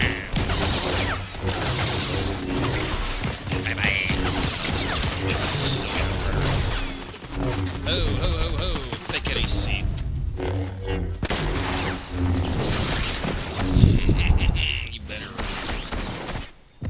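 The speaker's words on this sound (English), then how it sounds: "Getting shot at pretty bad." Dense Fortnite gunfire crackles through a match in rapid bursts and volleys, with booms and crashes mixed in, loud and close, while a player talks over much of it.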